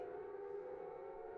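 Civil defense siren from the Silent Hill video game, a steady wailing tone held at constant pitch for the whole short stretch, heard alone with no talk.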